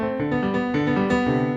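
Piano broken chords from a Czerny op. 599 beginner study, played unevenly with a tense hand, a short close run of ringing repeated notes.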